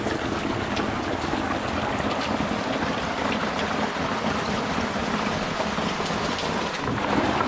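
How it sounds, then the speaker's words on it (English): Steady rain falls outdoors as a dense, even hiss with a low rumbling undertone, constant and fairly loud throughout with no voices. "Rain come down again, you know?"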